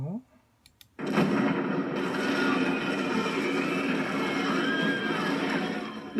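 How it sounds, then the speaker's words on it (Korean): Heavy cannon fire during the Ottoman siege under Mehmed II, a sudden loud onset after near silence that becomes a sustained, dense roar of booming and rumble lasting several seconds, with no talk over it. "메흐메트 2세는 계획대로 밤낮으로 대포를 쏩니다."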